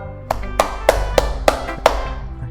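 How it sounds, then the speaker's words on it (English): Six evenly spaced hand claps ring out close and crisp over faint background music, a slow, steady clapping lasting about two seconds. "I'll give you a clap for that, Monica."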